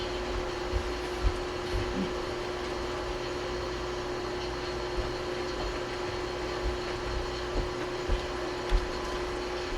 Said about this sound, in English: We're going to vacuum this floor up.